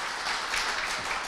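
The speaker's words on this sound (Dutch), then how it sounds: "Ja, en papa's en mama's niet roepen, even klappen." Studio audience of parents clapping together at a children's TV fan day, a steady dense patter of applause filling the room with no voices over it.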